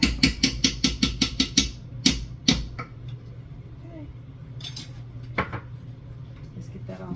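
A spoon stirs a cream-based paste in a bowl, rapid regular clinks and scrapes at first, then a few scattered taps and softer scraping, close and clear.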